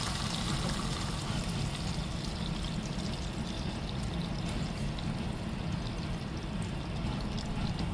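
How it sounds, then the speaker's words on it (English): Beaten eggs seasoned with light soy sauce pour into a pan for a chicken omelette, a steady close liquid pour with a continuous sizzling wash running evenly throughout, no voices. "Add beaten eggs."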